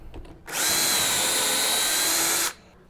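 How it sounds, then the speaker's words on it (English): Power drill boring into a wooden shelf board held in a jig: a loud, steady whir for about two seconds with an abrupt start and stop, with no talk. "take your drill"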